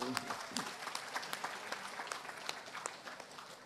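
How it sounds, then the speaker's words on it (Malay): A political rally audience in Kangar claps in a sustained round of applause that fades slowly, with voices murmuring underneath. "Tepuk tangan"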